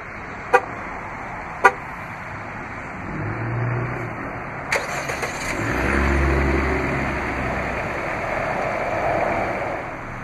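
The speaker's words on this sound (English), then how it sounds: "The horn will chirp and the vehicle will lock." Horn on a 2016 Jeep Renegade Limited 4X4 giving short chirps as the vehicle locks, two crisp brief toots close by, then a third, followed by low engine idle rumble.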